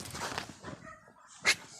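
Dogs playing in the snow make faint scuffling and soft vocal sounds, then give a single short, sharp bark or yip near the end.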